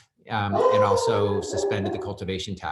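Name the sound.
dog barking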